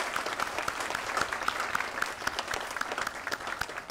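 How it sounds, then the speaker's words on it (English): Audience at a military medical battalion change of command ceremony gives a sustained round of applause, dense and even, fairly distant and soft, with no talk over it. "please join me in a round of applause thanking everybody for that."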